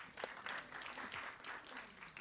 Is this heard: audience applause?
yes